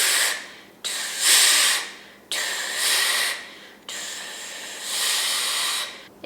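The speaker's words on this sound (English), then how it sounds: "If you just blow through your teeth and then you really turn up the hose and speed up the air." A person blows air forcefully through the teeth in four long hissing bursts separated by short breaths, loud and close, with no talk.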